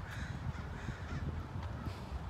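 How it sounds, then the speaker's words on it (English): A large flock of crows caws from all around a residential block, the harsh calls overlapping in a loose, irregular chorus at moderate distance, fairly faint against a low background rumble. "not even 5 minutes after I come home, there's just about 500 crows"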